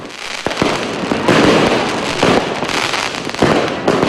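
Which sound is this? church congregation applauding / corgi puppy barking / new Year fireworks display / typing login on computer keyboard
new Year fireworks display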